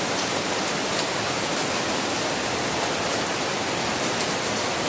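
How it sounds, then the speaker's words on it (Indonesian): Heavy rain pours down steadily in Mecca on a Friday, a dense, even hiss that stays loud and unbroken throughout with no voices over it. "hujannya dahsyat. Hari Jumat Mubarak, hujan."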